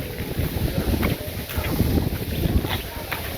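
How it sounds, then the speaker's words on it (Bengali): Gusty wind rising in a village under heavy clouds before rain, buffeting the microphone in uneven rumbling bursts with a faint hiss. "আবার বাতাস উঠছে সাথে"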